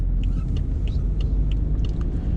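A BMW 520d F10 driving on forest roads, heard from inside as a steady, loud low engine and road rumble that carries on without a break, with no talking.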